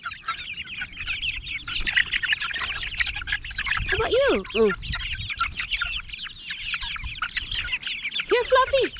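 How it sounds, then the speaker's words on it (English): Backyard chickens at a Texas home cluck and chatter steadily nearby, with a few louder squawks rising above the flock, while a person speaks softly now and then. "Come here, chickens."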